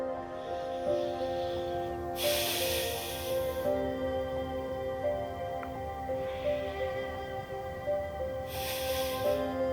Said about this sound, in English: And hold that in 2 deep breaths.